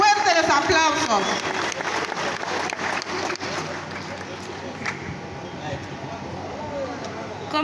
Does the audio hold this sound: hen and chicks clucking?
no